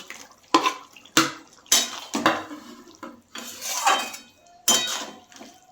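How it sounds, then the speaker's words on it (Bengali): Eggplant pieces tumbling into a cooking pot of simmering shim begun ghanto, a series of sharp clattering clinks and knocks against the metal pot, several distinct impacts spaced across a few seconds with faint bubbling between. "এবার আমি এই বেগুনগুলো দিয়ে দেবো এর মধ্যে"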